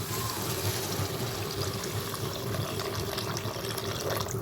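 Tamarind water pours steadily into a pan, a continuous watery splash and trickle with no talking.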